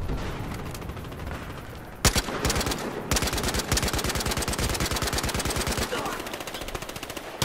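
An AK rifle firing in the video game Battlefield Hardline, with loud, rapid automatic bursts in a steady rhythm and a dense layer of gunfire behind them for the whole stretch.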